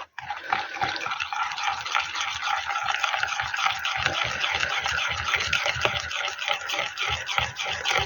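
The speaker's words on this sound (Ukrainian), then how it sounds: "І перемішую." A spoon steadily stirs a thickening cream mixture for a homemade cake, made with baking soda, producing a close, continuous rhythm of soft scraping and swishing against the bowl.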